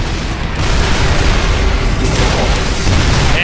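Siege tank cannon fire in StarCraft, a loud, heavy wash of booming blasts and rumbling explosions layered together into a continuous dense roar with no clear gaps.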